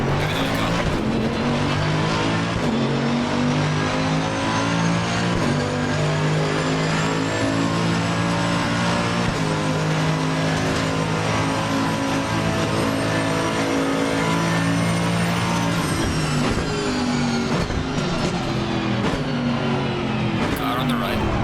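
Race cars in Assetto Corsa Competizione roar off the line together at the start of a Monza race, engines revving loud and sustained with layered droning tones for about twenty seconds.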